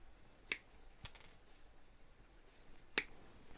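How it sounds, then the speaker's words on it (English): Sprue cutters sharply snip plastic hinge parts free from a 1:16 scale Orca boat model kit sprue. There are about three crisp, isolated clicks spread out over a few seconds against near silence. "let's get my sprue cutters and I'll cut these off"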